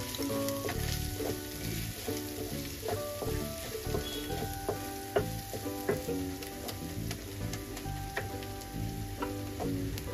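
Onion, ginger and garlic browned with garam masala sizzle steadily in a pan for mutton kofta curry, close and continuous, with repeated scrapes and knocks of a spoon stirring through the frying mixture.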